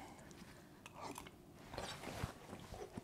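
Someone slurping hot, blended cream of bean soup with smoked Mangalica bacon and smoked ribs, giving short, wet mouth sounds in quick succession, close up and fairly faint, with no talking.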